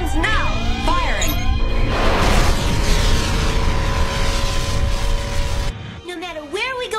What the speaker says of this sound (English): Prepare to fire reflex engines now. Firing.